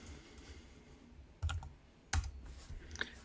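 Sparse keystrokes on a computer keyboard as commands are typed into a Linux console, a few distinct clicks close by over quiet room tone, with no talking.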